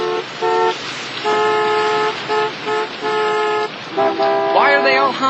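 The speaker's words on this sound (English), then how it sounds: "Why are they all honking?" Several car horns honk in repeated bursts, some long and some short, overlapping into a loud, insistent chorus of tones, with a jumble of horns and a brief rising whine at the close.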